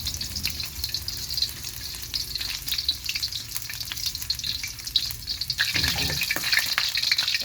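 Ginger sizzling in hot sesame oil in a pan, a steady crackling fry with occasional scraping stirs from a utensil, close and constant throughout.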